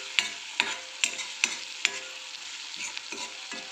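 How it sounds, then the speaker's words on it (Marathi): Broccoli fry with turmeric and spices being stirred in a pan, a spoon scraping in about five sharp, evenly spaced strokes over a soft continuous sizzle, close and alone. "चांगलं मिक्स करून घेऊया परत"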